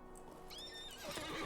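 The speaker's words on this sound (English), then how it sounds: "Get on the horse." A horse in the video game Lord of the Rings Online gives a bright rising whinny, followed by the clatter of hooves at the end, all close and clear with no talking.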